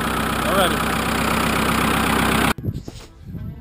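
A diesel Ford tractor with air-locked fuel lines idles in a steady, loud, continuous drone before cutting off abruptly, after which faint background noise remains.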